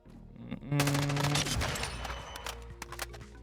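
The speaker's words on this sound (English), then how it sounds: "You wouldn't think an M4 would have this good of hipfire." An M4 rifle fired from the hip in Call of Duty Warzone lets off a dense, loud burst of rapid automatic gunshots, followed by a few scattered clicks and thuds as the firing stops.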